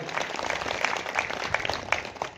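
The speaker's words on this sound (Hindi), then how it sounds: "हमारे बड़े बाबू आदरणीय अशोक सिंह उइके जी, आपको भी हमारी यह कमेटी हार्दिक दिल से जोरदार तालियों से स्वागत है।" Applause from a committee gathering welcoming a guest, a moderate, continuous patter of clapping with a few sharper claps standing out, fairly quiet overall and without talk.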